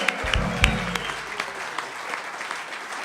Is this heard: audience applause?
yes